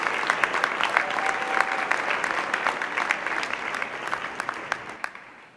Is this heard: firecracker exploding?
no